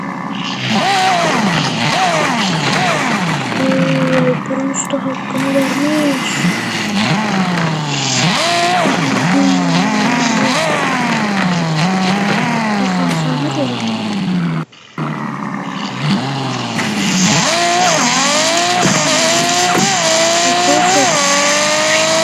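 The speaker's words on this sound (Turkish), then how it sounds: "Arkadaşlar arabanın sesi değişmiş." A video-game car engine revving hard, rising and falling in repeated climbing pitch sweeps with a loud, roaring tone that runs almost without a break. A player talks over it.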